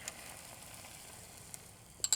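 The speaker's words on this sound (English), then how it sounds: "you can hear the sizzle already, a little bit" Cheese sizzles faintly and steadily in a waffle maker, with a couple of small clicks near the end.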